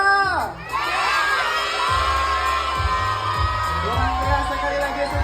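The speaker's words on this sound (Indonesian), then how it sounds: "kita teriak bareng-bareng panggil namanya" A large audience at an animal show shouts together in unison, calling out a lion's name as one loud, sustained crowd roar with children's yells and whoops mixed in, close and continuous.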